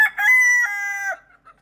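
A rooster crows once, a long, near, harmonic cock-a-doodle-doo lasting about a second, followed by a few faint clucks from chickens in a farmyard.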